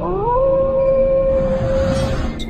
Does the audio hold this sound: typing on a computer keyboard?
no